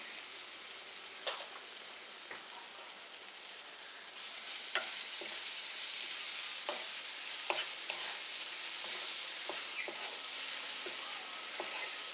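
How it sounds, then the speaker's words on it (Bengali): Spices and moong dal sautéed and stirred in a pan for a Bengali bottle gourd lau ghonto: a soft, even sizzle that swells after a few seconds, punctuated by sharp spatula clicks against the pan. "ডালটার সাথে মশলাটা একটু ভালো করে কষিয়ে নিচ্ছি"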